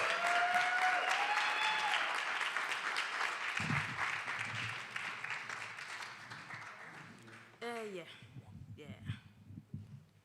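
An audience at a live online poetry jam applauds in a dense wash of clapping that slowly thins out, with cheers and talk mixing in near the end.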